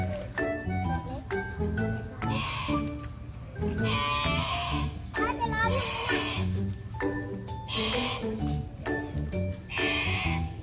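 Lambs bleat repeatedly during sheep feeding, loud, close bleats rising over a steady busy background with voices murmuring.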